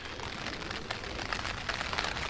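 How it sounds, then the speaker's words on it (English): Steady rain patters on a tent at a campsite, a soft, continuous hiss with faint scattered drops, fairly quiet and unbroken. "Raining as well."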